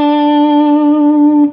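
A blues rock electric guitar note rings out loud and sustained with a rich, slightly effected tone, holding steadily for about a second and a half before cutting off.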